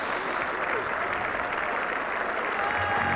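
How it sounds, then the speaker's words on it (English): Cricket crowd at Old Trafford applauding a 100 partnership during the fifth day of a 1972 England versus Australia Test match, a steady, dense wash of clapping from a distant stand that holds at an even level throughout. "there's got to be some applause now, because that's 100 partnership come up"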